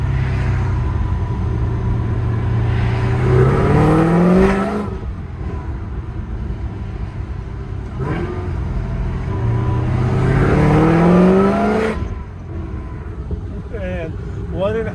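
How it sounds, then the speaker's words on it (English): A supercharged LS2 V8 in a boosted Pontiac GTO revs up twice through the gears, each pull rising in pitch to a loud peak before easing off, with a steady engine rumble in between. "what an absolute pleasure it is to drive a supercharged LS motor"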